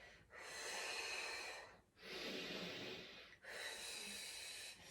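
Slow, deliberate breathing during an upper back lift exercise in a workout for mums: three long, airy breaths, close and fairly quiet, each separated by a short pause.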